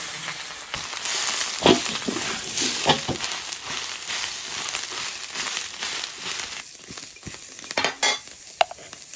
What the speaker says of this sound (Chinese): 辣椒下锅炒。